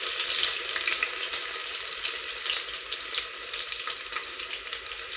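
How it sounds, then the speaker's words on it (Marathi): Green chilies and crushed garlic frying in an Indian-style pan, a loud, steady close-up sizzle and crackle with no talk. "आता मिरच्या परतल्या की त्याच्यात मी ते लसूण टेचलेलं टाकून घेणार आहे"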